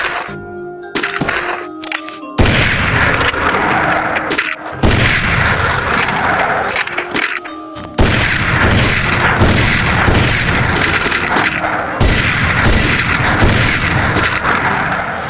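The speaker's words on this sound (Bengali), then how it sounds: "এই যে আমি স্নাইপার নেব।" Sniper rifle shots from the Free Fire mobile game's training ground ring out as loud, sharp cracks with booming tails, fired repeatedly at irregular intervals over continuous game ambience.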